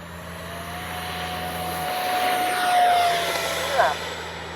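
A Freewing 70mm F9F-5 Panther RC jet's ducted fan whines steadily and rises in pitch as it takes off, heard from nearby and lasting throughout.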